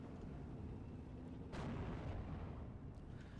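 Bombs hit a German Sturmgruppe during a World War II battle in Steel Division on the Slutsk East map, with a dense, continuous rumble of blasts and a sharper burst partway through.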